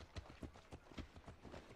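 Horse hooves clip-clop in a steady rhythm in Assassin's Creed Odyssey, the regular thuds fairly faint over a soft background bed.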